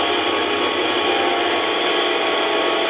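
Steady, continuous cutting noise from a Tormach CNC mill with a 3mm end mill profiling the fine internal octagon ring of a spanner, loud and even throughout without pause.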